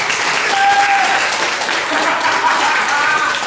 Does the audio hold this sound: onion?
no